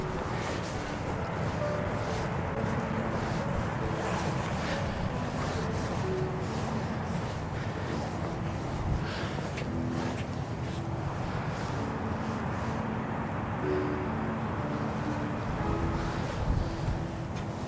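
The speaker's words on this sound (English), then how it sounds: "it is quite windy today" Wind gusting on a Norfolk coastal walk, a constant rushing buffet across the microphone with a low rumble, steady and fairly loud throughout.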